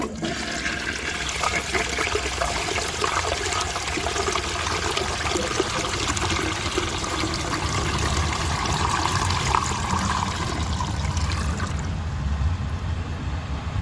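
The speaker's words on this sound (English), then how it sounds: "It took them all in one flush with water to spare." A toilet flushes ten bottle caps away in one long, loud rushing surge of water that gurgles steadily and then drops off sharply near the end.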